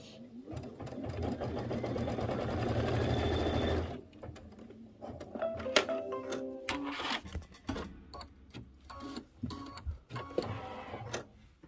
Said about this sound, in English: it's going to sew a diagonal